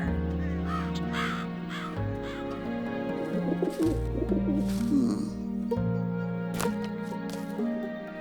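A crow caws and a pigeon-like bird coos, set within a children's animated story about a witch on a broom, with music underneath; the bird calls come loud and close across the passage.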